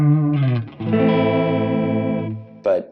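Electric guitar run through a Mooer Pitch Box pedal set to detune downward, giving a chorused, slightly out-of-tune doubled sound; a short note, then a sustained ringing chord and a quick final pluck, played alone.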